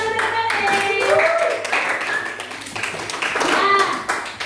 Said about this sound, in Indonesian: Tepuk tangan untuk materi